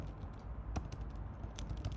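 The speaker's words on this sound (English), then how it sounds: "we're going to type in a web page here" A web address is typed on a computer keyboard, with a handful of soft, irregular key clicks close by over a quiet room background.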